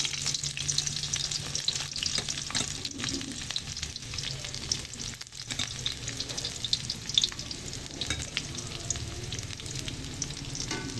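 Garlic frying in a hot pan, a continuous crackling sizzle with occasional stirring scrapes, steady and close throughout.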